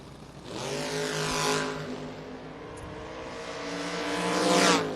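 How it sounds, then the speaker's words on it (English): A 1968 Camaro and a Mustang at a drag race, engines roaring with sweeping harmonic tones as the cars launch and pass, rising again near the end. "in the 68 Camaro in the right lane. Sam Vanderslice in the Mustang in the left lane"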